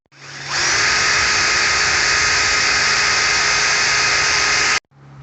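A power drill boring pilot holes in wood, one steady high-pitched whine held for about four seconds after a quick spin-up, then cutting off abruptly, close and loud.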